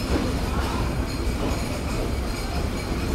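The Sundarban Express rolls out of Chuadanga station on its run from Dhaka to Khulna, a steady, dense rumble of wheels and carriages heard from on board without a break.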